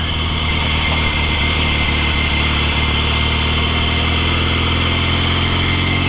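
A 1963 Royal Enfield Interceptor motorcycle engine downshifting from third to second, a loud, close, steady mechanical drone with throbbing low harmonics and no talk.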